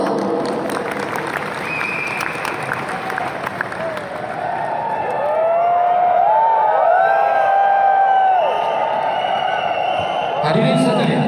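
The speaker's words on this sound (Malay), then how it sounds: "Berikan tepukan yang gemuruh." A large crowd at a national youth congress breaks into applause, mixed with whoops and cheers that swell and hold steady, while a prolonged tone rises and falls over the clapping.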